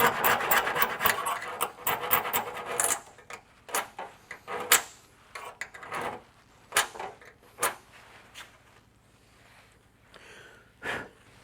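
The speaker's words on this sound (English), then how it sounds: "I need to get a scribe so I can see a good scribe line in that rust" Scribe point dragged across rusty inner door sheet metal on a Model A Ford, the patch panel being marked for trimming: a dense run of rasping scratches, then sparse, separate scrapes and clicks, close and fairly loud.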